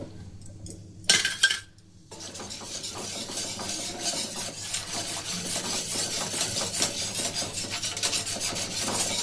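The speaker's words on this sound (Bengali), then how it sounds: "খুব ভালো করে একটা হুইস্কার দিয়ে এইভাবে ফাটিয়ে নিতে, মানে দুধটাকে গুলে নিতে হবে" Powdered milk being whisked into warm water in a bowl: a brief clatter, then a continuous, even scraping and swishing of the whisk against the bowl, close and fairly loud, with no talking.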